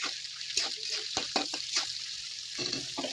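Beans and vegetables for chow mein are stirred in a frying pan, with a steady sizzle and repeated scraping strokes of the spoon across the pan, moderately close, with people talking intermittently.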